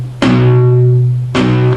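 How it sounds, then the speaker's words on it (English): Two palm-muted power chords plucked on a guitar, each a short, damped strum with a clipped attack and quickly fading tone, the second following about a second after the first, loud and close with no talk. "what you can do is pluck the power chord"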